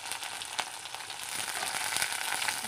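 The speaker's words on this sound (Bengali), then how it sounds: "এখানে তেলটা কিছু গরম হওয়ার পর আমি দিয়ে দিলাম রসুন," Garlic and green chilies sizzle in hot oil, a steady, close frying hiss that grows slightly louder over the stretch, with a few soft clicks.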